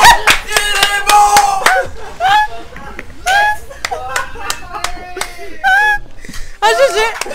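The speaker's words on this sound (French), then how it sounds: "J'applaudis." A few hand claps ring out among lively, excited voices talking and exclaiming during a casual gaming session; the claps are sparse and partly buried under the chatter.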